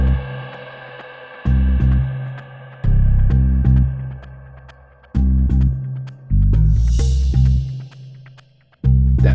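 Rhythm section of a tension cue, with glitch percussion, bass and tinglik: loud pulsing bass notes in irregular bursts under quick ticking clicks and a bright metallic shimmer, purely instrumental.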